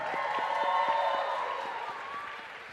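Audience applause at a dance championship show, scattered claps and crowd murmur rising under sustained tonal music or cheering, moderately loud and fading slightly by the end.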